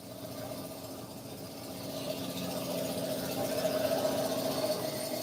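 A carbureted car engine idles fast with a steady, moderately quiet hum that rises slightly in level, and nobody speaks.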